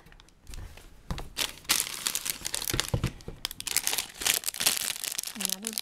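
Lego Creator Santa's Workshop 10245 parts and their plastic bags are dumped out during an unboxing: a busy stream of crinkling plastic, rustling and scattered clattering pieces, close and uneven, building after a quiet start.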